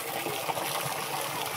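Water gushes and bubbles up strongly from a water source where people are fetching water, a steady, loud rushing flow with no talk over it.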